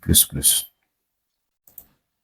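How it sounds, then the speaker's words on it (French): Right-click of a computer mouse while editing in Notepad++, a faint quick pair of clicks heard alone after a stretch of speech. "quand je fais clic droit, le clic droit"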